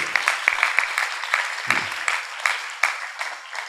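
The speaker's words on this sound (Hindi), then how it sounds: "जोरदार से तालियां बजाएंगे पिरामिड मेडिटेशन के लिए" Audience applause at a pyramid meditation talk, a steady run of many hands clapping with sharp individual claps standing out, fairly close and continuous.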